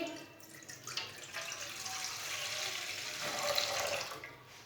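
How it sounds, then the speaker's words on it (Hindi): Steady rushing water pours continuously into a pot for several seconds, a broad hiss that swells slightly, close by with no talking. "3 गिलास पानी डाल लेंगे।"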